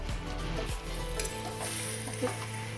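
Chicken pieces sizzle in a pan while being stirred, a steady soft frying hiss broken by occasional scraping and light clinks of utensil against the pan, with no talking.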